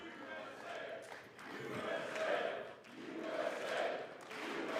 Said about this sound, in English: they were cheering over Al Green's exit